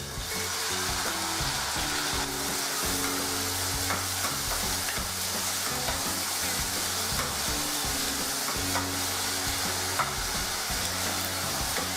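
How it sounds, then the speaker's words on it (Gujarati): Chopped onion frying with ginger-garlic paste and green chili for a Kathiyawadi baingan bharta sizzles loudly and continuously, close up, with a constant hiss and faint stirring, no one talking. "હવે તેમાં સમારેલ ડુંગળી સાથે દઈશું"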